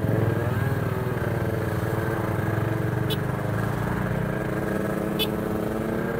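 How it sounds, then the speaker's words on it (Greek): Several motorcycle engines rumble and drone steadily nearby as they ride off, with a continuous mid-pitched hum and a couple of brief sharp clicks. "Έχουμε μεγάλη συμμετοχή από μηχανάκια."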